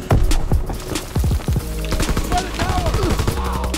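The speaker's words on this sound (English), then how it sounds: "Mission artillery ready for orders." Artillery strike in Call of Duty WW2, a dense barrage of heavy booming impacts and rapid gunfire crackling loudly, with in-game radio voices calling orders over the blasts.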